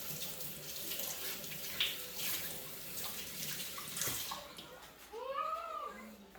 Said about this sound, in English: I'm gonna quickly wash my hands